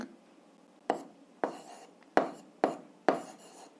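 Writing out an algebra solution by hand, five short distinct pen strokes and taps on paper at an uneven rhythm, close and fairly quiet over a silent background.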